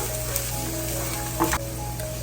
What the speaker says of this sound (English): We'll saute our onion for a few minutes.